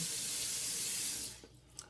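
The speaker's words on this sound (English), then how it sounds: "Let's rinse the face up a little bit." Water runs from a bathroom sink tap during face rinsing after a shave, a steady close hiss that cuts off near the end, followed by a couple of small splashes.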